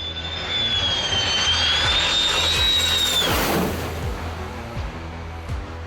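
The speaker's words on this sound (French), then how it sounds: "Observez ce pilote de F-16 donner à ces observateurs d'avion une nouvelle coupe de cheveux." An F-16 fighter jet makes a low flyby over plane spotters, its loud engine roar swelling with a high whine that bends downward as it passes, then fading to a rumbling wash; no talk.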